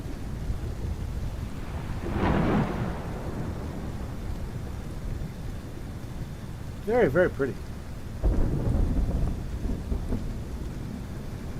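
Thunder rumbles over steady rain in a video game storm, with a couple of sharper cracks and a brief voice speaking over the downpour.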